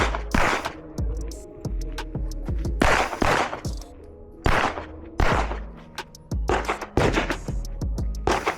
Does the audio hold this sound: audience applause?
no